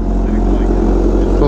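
An MV Agusta motorcycle engine running close by, a steady loud low rumble with a pulsing idle rhythm throughout the short stretch.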